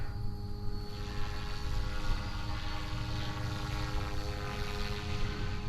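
A model helicopter flies far off, its steady rotor and motor drone holding a constant tone for several seconds, moderately loud against open outdoor air with no voices.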